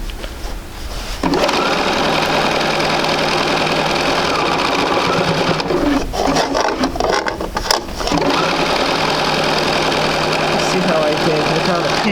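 A sewing machine runs in steady, rapid bursts as it stitches quilt pieces for a basic sampler, the whirring motor pausing briefly midway before resuming, close and clear with no talk.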